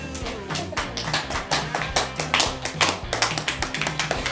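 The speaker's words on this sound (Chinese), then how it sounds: "掌声鼓励。" Hands clap in a rapid, steady patter of sharp, close claps, with music playing quietly beneath.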